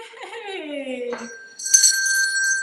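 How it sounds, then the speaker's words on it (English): A bell rung to mark the start of a live virtual art show of handmade jewelry and fashion, a bright ringing tone with a sustained shimmer lasting about a second, following a voice speaking. "That's our bell."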